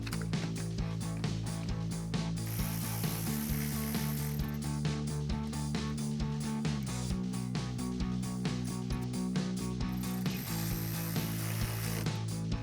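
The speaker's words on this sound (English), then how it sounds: "we're just going to take our 10mm socket and a ratchet, loosen this" A hand ratchet with a 10mm socket loosens a bolt on a 2012-2015 Toyota Tacoma during grille installation, clicking in steady, rapid repeated bursts up close with no talking.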